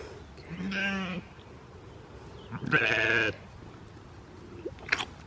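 Sheep or goats on a farm bleat twice, each a loud, wavering call of about half a second, with a fainter short bleat near the end over a quiet outdoor background.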